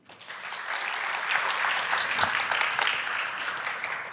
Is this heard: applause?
yes